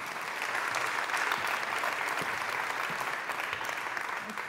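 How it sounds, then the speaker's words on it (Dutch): Audience applause for a panel member at a Dutch policy report presentation on artificial intelligence, a steady, dense wash of clapping held at an even level throughout with no voices over it. "Een applaus voor mevrouw Leijten."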